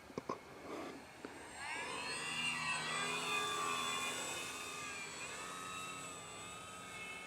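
An FT Corsair radio-controlled model plane on its maiden flight makes a low pass, its motor whine rising and sweeping in pitch as it comes near and holds steady, following a few soft clicks.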